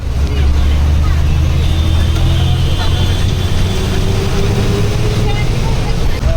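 An old red state transport bus pulls away on the road from Mumbai toward Ratnagiri, giving a loud, continuous low engine rumble and drone. Voices murmur faintly beneath it.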